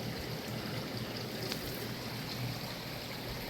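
Creek water drops into a pond outdoors, a steady broadband rush and trickle with a faint low hum underneath, continuous and even throughout.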